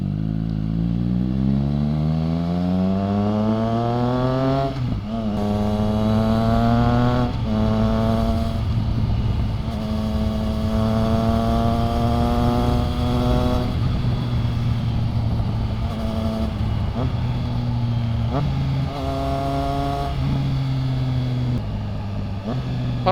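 A Triumph Trident 660 motorcycle's exhaust is heard up close while riding at night, rising and falling through repeated rev climbs and gear changes, loud and steady with no talking.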